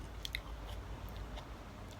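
Soft, close crunching bites of sour, slightly unripe fruit followed by quiet chewing, faint and intimate with no talking.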